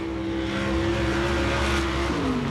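A race car engine droning at sustained revs during a race, a steady tonal whine heard from a distance that shifts pitch near the end, with no talking over it.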